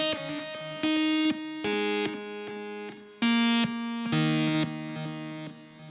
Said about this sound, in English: only listen to this delay sound